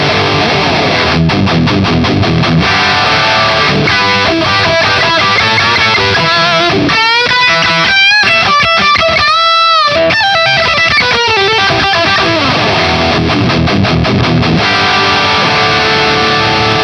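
Distorted electric guitar through a Headrush Core amp modeler plays a dense, loud riff with rhythmic chugging, breaking into sustained, effect-laden notes midway before the driving rhythm returns.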